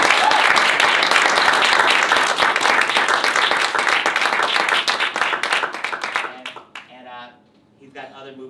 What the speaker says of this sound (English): Let's give Thom a round of applause.